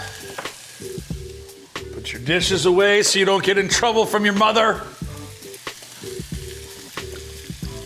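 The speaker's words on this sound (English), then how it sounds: "Oh yeah, it's sizzling." Chicken and sugar-free barbecue sauce sizzle steadily in a pan with occasional stirring scrapes, while a person talks loudly over the frying throughout.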